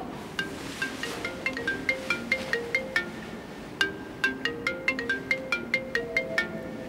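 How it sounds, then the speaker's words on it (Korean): A mobile phone ringtone for an incoming call plays alone, a bright repeating melodic pattern of plucked-sounding tones at a steady pace, moderately loud and close. "전화 온다"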